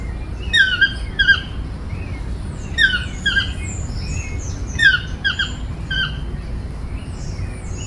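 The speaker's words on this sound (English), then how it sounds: "The toucan moved lower down and we were actually treated to a little bit of a song by him" A toucan calls in a tropical garden, repeated harsh croaking squawks given in short bursts of two or three notes, fairly close and clear over a low background rumble of distant highway noise.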